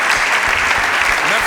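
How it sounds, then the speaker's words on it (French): Audience applause at a French comedy show, a dense, loud, continuous wash of clapping close by, with faint voices mixed in. "je vous prie d'applaudir très fort pour vous, pour votre patience"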